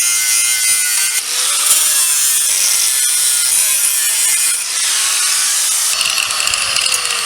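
An angle grinder cutting into a bicycle part, a loud, continuous high-pitched metallic whine and screech that shifts in pitch as it bites, close and alone with no talk.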